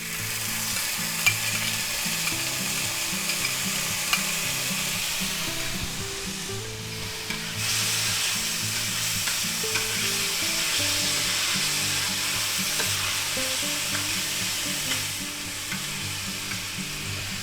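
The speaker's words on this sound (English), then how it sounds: "Boy, there's nothing like the smell of garlic cooking in a pan." Minced garlic with vegetables and Vienna sausage sizzles steadily in a hot pan during a stir fry, a continuous broadband frying hiss with repeated scraping stir strokes throughout, close and fairly loud, with no talking.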